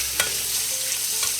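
Sheep tail fat renders and sizzles in a pan while frying for plov: a constant dense crackle with a few sharper pops and occasional stirring scrapes, close and steady, with no talking.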